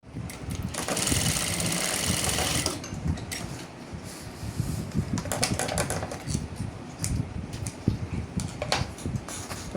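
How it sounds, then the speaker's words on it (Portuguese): Sewing machine stitching the seams of a fabric toiletry bag, a busy mechanical whir with rapid needle clatter that runs loud for a few seconds, then continues in shorter uneven bursts, with no talking. "Pronto, ela tá toda costurada."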